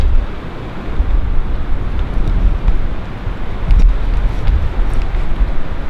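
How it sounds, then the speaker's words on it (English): Loud, rumbling wind buffets the microphone in continuous gusts, with a low roar swelling and easing. "It was this windy or windier all night."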